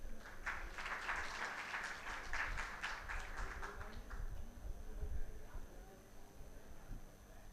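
Audience applause in a hall welcoming student performers at an International Day of Yoga event, a dense steady patter of many hands over the first four seconds, then fading into murmuring crowd noise and background chatter.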